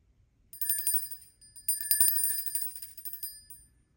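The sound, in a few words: small tinkling bell ringing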